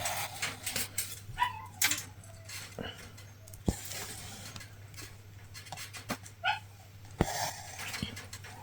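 A misbehaving dog with separation anxiety whimpers in a kitchen, giving scattered short whines and yips over a steady background hum, with a couple of sharp knocks between.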